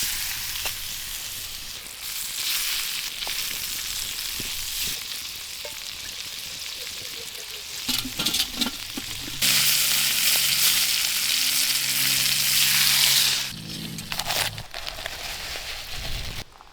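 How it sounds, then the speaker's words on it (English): Squirrel meat fries in butter over a camp stove in the Appalachian woods, a continuous sizzle that swells louder partway through with scattered clinks and stirring scrapes and no talk. "here's our squirrel cooked up in butter"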